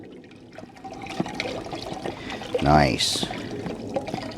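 A quart of beef broth being poured into a pot of Texas-style chili, making a brief gurgling splash of liquid that rises and fades, with someone speaking briefly.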